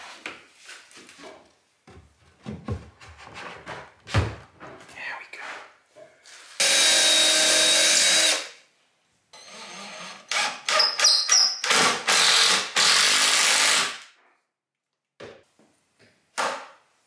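A power drill drives bolts through a 2x4 block into the stair framing below a landing railing post: two loud, sustained whirring bursts of about two seconds each, separated by wood knocks and handling clatter.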